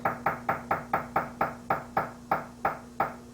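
A pinewood derby car axle tapped into the wooden body: about a dozen sharp, evenly spaced knocks in quick succession, close and clear, each ringing briefly.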